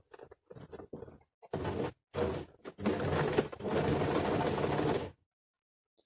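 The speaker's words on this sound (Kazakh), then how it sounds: "Бағанағы кішкентай матамызды былай тігіп аламыз." A sewing machine stitches a small piece of fabric along a straight seam for a turban, starting with short stop-start bursts and then running in a long continuous whirring stretch, close and loud.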